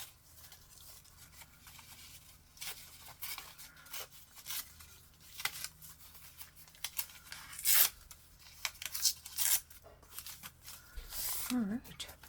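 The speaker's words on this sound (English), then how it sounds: "So I'm going to rip that off." Paper or craft material is ripped off in short, papery tearing bursts during a crafting session, the sounds close and fairly quiet, with a person talking intermittently around them.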